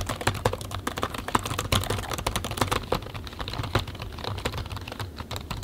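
Steady, rapid clicking of laptop keys being typed on, close and continuous with no talking.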